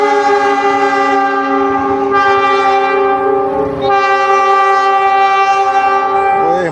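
A CC206 diesel locomotive moving light near Manggarai station in Jakarta sounds a long, loud multi-tone horn, close by and continuous, with one brief break partway through as it passes.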